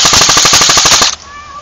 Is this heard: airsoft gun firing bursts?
yes